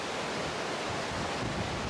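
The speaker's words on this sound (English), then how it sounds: "Obviously, it's very breezy out here too." Steady, full-band rushing of wind buffeting across the open deck of the Disney Wonder cruise ship at sea off Alaska, loud and constant with no voices.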